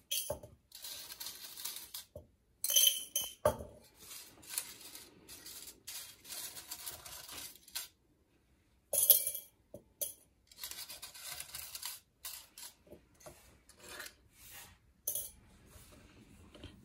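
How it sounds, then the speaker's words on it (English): Metal paper clips drop into a glass beaker in a school lab, producing repeated close, bright clinks and rattling bursts separated by short pauses, with no speech. "we'll take the paper clips and put them in here."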